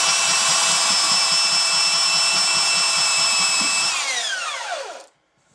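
A belt sander sands an acoustic guitar neck, its loud, steady high whine running close for several seconds before the motor is switched off and spins down to silence.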